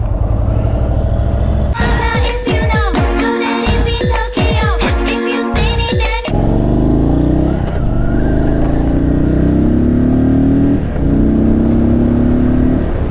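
Indian Chief Bobber Dark Horse motorcycle engine accelerating on the road, loud rising revs through gear changes with wind rush, close to the rider and without talk.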